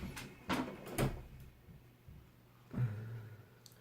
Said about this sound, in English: Shutting the door there.